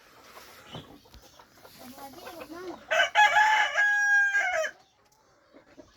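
Hens and a rooster in a backyard flock: scattered soft clucks, then one loud, close rooster crow lasting under two seconds before the birds fall quiet again.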